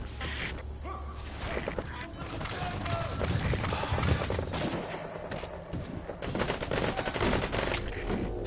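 Rapid bursts of gunfire rattle through a video game battle, overlapping volleys and sharp single shots swelling and fading over a busy rumbling background with clanking mechanisms.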